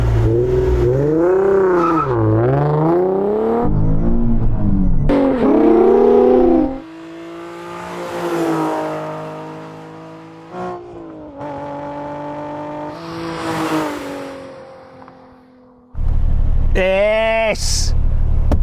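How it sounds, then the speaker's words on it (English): A manual Nissan Z launching hard from a standing start, engine revving up through gears with rising harmonic sweeps, a brief lull, then another loud rev burst near the end; voices murmur in places. "launch his car to see how quick it really is"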